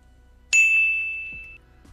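A bright notification bell dings once, loud and clean, then rings out with a long sustained tone that slowly fades over about a second against near silence.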